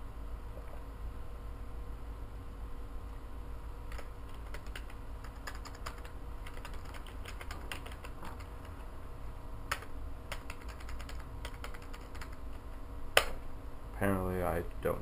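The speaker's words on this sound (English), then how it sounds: "Type in the username and password." Username and password are typed on a computer keyboard while installing Linux on a PS3, with bursts of soft key clicks over a steady hum and a brief louder rustle near the end.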